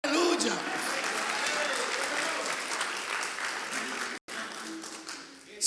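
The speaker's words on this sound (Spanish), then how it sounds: "Come on, iglesia, dale el aplauso al Señor" A church congregation breaks into sustained applause during a service, a thick roomful of clapping that carries on for several seconds, cuts out for an instant, then resumes with voices calling out over it.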